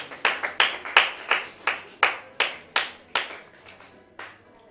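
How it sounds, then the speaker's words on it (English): A small group of classmates claps for a presenter in a classroom, a sparse run of about a dozen distinct, fairly close hand claps that thin out toward the end. "clap for your classmate"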